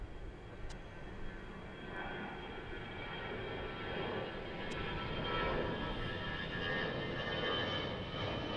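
An Airbus A380 passes on the airside at Gatwick Airport, a broad, steady engine roar that swells gently and holds at a distance, with no voices over it.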